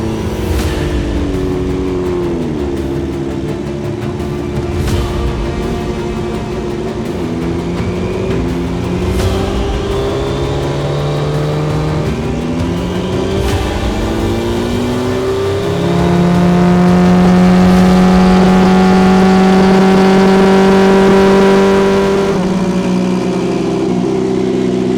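A turbocharged Suzuki Hayabusa motorcycle on a dyno revs loudly and continuously, its engine pitch climbing and falling through repeated sweeps before holding a high, strained tone near the end, with no speech.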